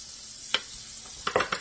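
Cube steak fingers fry in a pan with a soft, steady sizzle, joined by a few close clicks and taps near the end, with no one talking.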